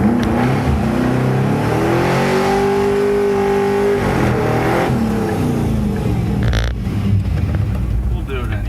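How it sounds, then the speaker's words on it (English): A Squarebody truck does a burnout on wet pavement, its engine loud and close as it revs and rises in pitch, then drops back amid tire roar. "I'll do a nice burnout here right for you guys."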